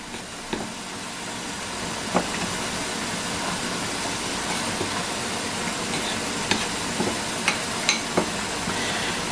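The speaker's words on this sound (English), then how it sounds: "So now we'll mix this up." Apple cobbler filling stirred together with measured spices in a bowl, giving a soft continuous scraping swish with occasional light clinks of the utensil against the side.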